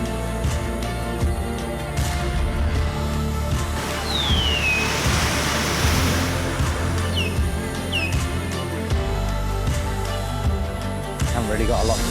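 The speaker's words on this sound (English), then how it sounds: "The peace, the waves." Ocean waves wash steadily onto a remote beach on Koh Chang, a broad continuous surf roar with a few bird chirps above it.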